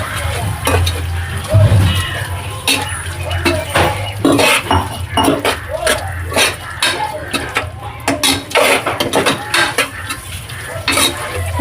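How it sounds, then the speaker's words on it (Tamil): Ginger garlic paste stirred in a pan for tomato rice, a spoon scraping and clinking against metal in quick repeated strokes over a faint sizzle, loud and close. "அதை சேர்த்து நல்லா கிண்டி விட்டுக்கலாம்."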